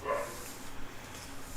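One brief dog bark rings out at the start, then only quiet room noise follows.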